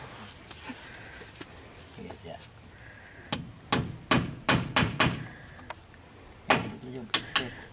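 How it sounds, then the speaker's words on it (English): Hammer driving nails during construction work, heard as a series of sharp, fairly close strikes in irregular bursts over quiet background voices. "don't tease Nerio about his driving nails"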